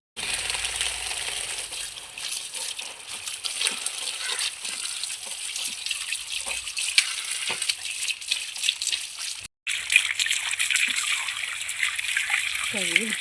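Home-grown tapioca (cassava) roots are washed in water, with steady splashing, trickling and sloshing throughout at close range while someone talks over it.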